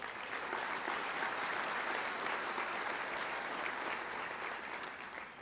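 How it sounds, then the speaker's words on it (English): Steady, dense applause from a large crowd at a Goodwill breakfast event in Tacoma, sustained without a break for several seconds and fading slightly at the end. "Give them a round of applause."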